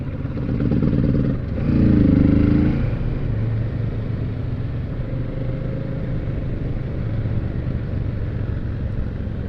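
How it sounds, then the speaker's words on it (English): A Kawasaki Z650 motorcycle engine gives a steady close rumble, briefly swelling louder near the start before settling into an even idle-like drone. "that's the Kawasaki 650 Z650"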